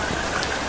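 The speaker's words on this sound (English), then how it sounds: "It's raining!" Steady rain hiss fills the short stretch, an even broadband wash of falling drops at moderate loudness with no voices over it.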